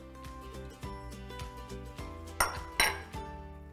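Cabbage, carrot and onion being mixed for a salad in a metal pan, with repeated clinks and scrapes of a utensil against the pan, quiet and close, with a few sharper knocks near the end.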